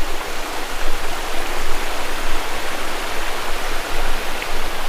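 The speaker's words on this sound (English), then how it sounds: "How this water's coming over these three little steps there." Shallow stream water spilling over three small steps at a campsite, a steady close hiss and rush of flowing water, loud and unbroken with no voices.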